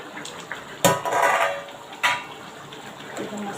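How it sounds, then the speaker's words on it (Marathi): The lid comes off a pot of dhaba-style egg masala curry with a loud metallic clank, then a brief hiss of steam and a second clatter of metal, close and with no voices. "आपण आता झाकण काढूया"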